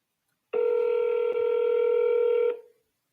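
A single sustained telephone keypad tone during outbound calls, a steady electronic beep of about two seconds that starts abruptly and cuts off cleanly, loud and alone with no talk.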